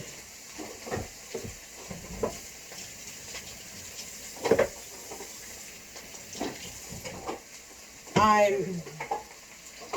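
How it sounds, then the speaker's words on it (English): Fideo noodles fry in a pan at home, a light steady sizzle with scraping stir strokes and a louder burst of crackle near the end, while a person speaks briefly. "you don't have to fry it brown the first time because it kind of gets fried again when you mix it in with the noodles"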